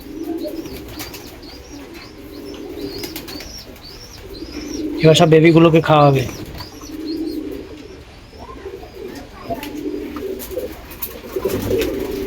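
Pigeons at a loft coo softly while feeding their chicks, with short rhythmic calls repeating under a voice and a brief loud flurry of wingbeats and squabbling midway.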